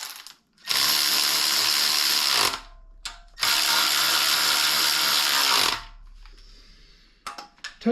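A power ratchet whirs in two long, loud bursts of a couple of seconds each, tightening bolts while assembling an LS engine, followed by a few small metallic clicks and clatters.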